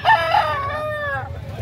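Rooster crowing loudly and close at a chicken market in Cebu, one long drawn-out call with a rising then falling tone, over a low murmur of market background noise.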